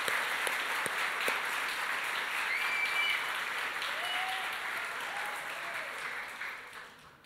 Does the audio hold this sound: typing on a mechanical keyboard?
no